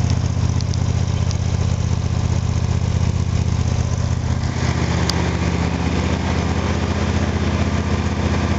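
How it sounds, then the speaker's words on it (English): An unmodified vehicle engine idles steadily, a low, even rumble with a faint higher whine, running unchanged throughout without revving. "This is an unmodified engine."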